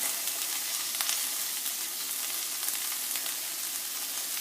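Steady, fairly quiet sizzling from a pan of basil, red peppers, onions, mushrooms, asparagus and black olives frying, a continuous hissing crackle with occasional small pops.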